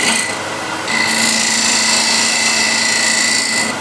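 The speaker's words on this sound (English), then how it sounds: "just clean up the flute, and I'll show you which part of the gouge is cutting" A woodturning gouge cuts into spinning wood on a lathe, giving a steady rasping, scraping hiss that briefly drops off and then resumes more strongly. The cut continues evenly and close up.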